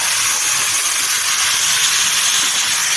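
Washed pumpkin pieces with turmeric hit a hot pan of oil and cumin seeds for kaddu sabzi. They give a loud, steady sizzling hiss that holds close for the whole moment.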